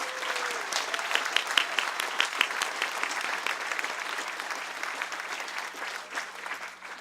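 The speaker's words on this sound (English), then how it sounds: "I want you to join me in giving them a great round of applause for their hospitality." An audience gives a sustained round of applause for the hosts at a speaking event, dense clapping that swells early and then tapers slightly, with faint crowd murmur beneath.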